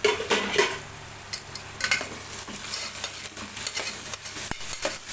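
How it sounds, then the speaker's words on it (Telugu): Onions for a dried-fish, tomato and onion curry are stirred and softened in a pan, giving scraping spoon strokes against metal over a soft sizzle, with irregular clattering bursts and quieter stretches between. "మధ్య మధ్యలో కలుపుతూ ఉల్లిగడ్డను అయితే మగ్గనివ్వాలి అండి"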